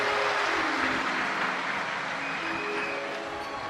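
A large crowd claps steadily in welcome at a Shiv Mahapuran religious discourse in Vidisha, a dense, continuous wash of applause that slowly fades.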